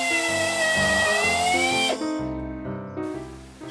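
A power drill drives screws into wooden bearers on an allotment, its motor whining loudly in stepped bursts that rise and fall in pitch, then stopping and restarting briefly near the end.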